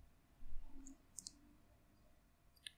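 Computer mouse clicks during website editing, a few sharp isolated clicks spaced apart: a pair close together near the middle and another single click toward the end, faint over quiet background hum.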